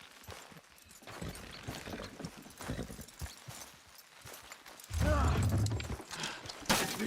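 Horse hooves clip-clop in a steady walking rhythm in the video game Red Dead Redemption 2, close and fairly loud, joined by a louder burst of movement near the end.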